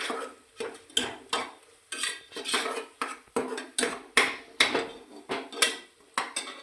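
Cooked cabbage and chana dal being mashed in a metal pot, a steady run of about a dozen close, sharp scraping clanks of the utensil against the pot at a regular pace.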